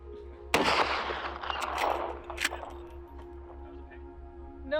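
Precision rifle shots fired at long range, one sharp loud report near the start followed by a rolling echo and a fainter second crack, over a steady low hum with brief voices.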